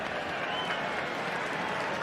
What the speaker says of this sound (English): the fans cheer because no hit